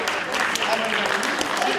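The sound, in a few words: audience applause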